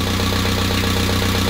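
An old car engine idles steadily and loudly up close, with a regular low pulsing throb throughout and no voices.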